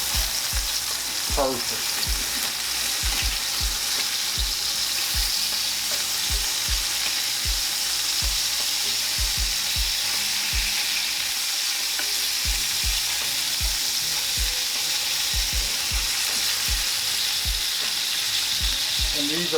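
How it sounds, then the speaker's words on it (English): Hamburger patties sizzle and fry steadily in a frying pan, a loud continuous crackle with occasional sharper pops, close up; a brief spoken word near the start. "let's go ahead and flip over our patties"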